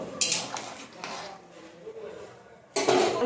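Vegetables and rice being stirred in a pot after salt goes in, with a utensil clinking and scraping against the metal in a few sharp bursts, the sharpest at the start and end, separated by softer shuffling.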